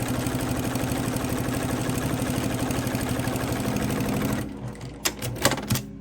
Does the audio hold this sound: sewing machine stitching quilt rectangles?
yes